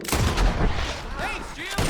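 Gunfire in the Red Dead Redemption 2 game booms in several heavy, close shots over a couple of seconds, with faint voices and background action mixed in.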